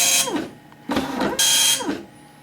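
A Panasonic KX-P1524 wide-carriage 24-pin dot matrix printer prints in loud, buzzing bursts as the head sweeps across, three passes separated by brief pauses and carriage movements, close up with no talking.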